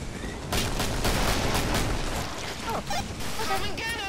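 Gunfire in the co-op game Killing Floor: a sustained, loud barrage of rapid shots with booming impacts fills the clip, with a voice talking over it.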